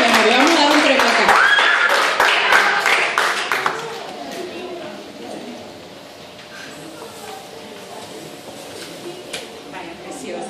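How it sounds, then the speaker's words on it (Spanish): Audience applause at a gala game-night show for Valeria, the winner of a Simon Says game: a burst of loud clapping under a speaking voice that fades to a quieter murmur after a few seconds. "Un aplauso fuerte."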